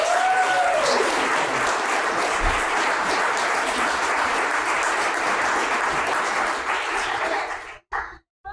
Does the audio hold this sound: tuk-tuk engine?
no